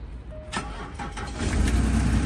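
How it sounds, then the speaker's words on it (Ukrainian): Diesel engine of a Range Rover Sport cranking and catching, brief starter bursts followed by a steady low idle rumble growing slightly louder, close by with no talk. "Зараз заведемо, побачимо стан мотора."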